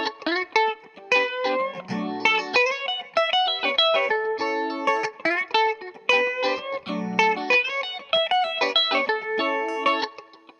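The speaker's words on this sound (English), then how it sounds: "The first one, though, is going to use just primarily pentatonic." Electric guitar lead line, played mostly in the major pentatonic with slides, a steady stream of bright effected notes with light distortion and ambience, heard alone without talk.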